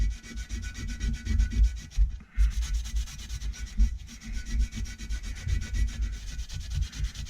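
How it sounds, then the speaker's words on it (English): Rubbing oil onto the surface of an exhaust part from a Yanmar 3HM35F marine diesel engine while removing gaskets, a steady close scrubbing and sanding-like friction that continues for several seconds with one brief pause, no talking. "I just rub the surface with this oil"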